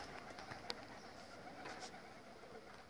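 Domestic pigeons cooing near a pigeon loft, soft intermittent coos and a brief sharp flutter heard faintly at a distance in a quiet outdoor setting.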